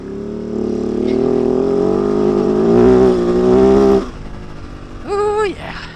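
A KOVE 450 Rally motorcycle pulls away, its engine droning steadily and rising in pitch under wind noise, then dropping off as the rider shifts and rolls on again, heard close from the rider's position.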